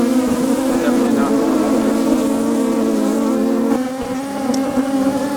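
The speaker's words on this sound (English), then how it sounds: "we're being attacked here. And this response from honeybees" Dense, loud buzzing of a swarm of Africanized honey bees in defensive attack mode, a steady droning hum close to the microphone with slight shifts in pitch, no speech over it.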